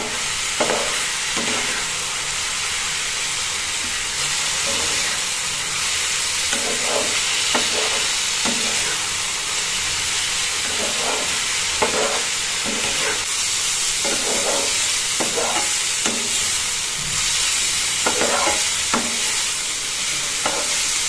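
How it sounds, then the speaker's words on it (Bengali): Mustard greens frying in a pan with sugar added, a steady broad sizzle and hiss running the whole time with soft intermittent scrapes from stirring, close and continuous, no voices. "এই দেখুন সর্ষে শাক ভাজা"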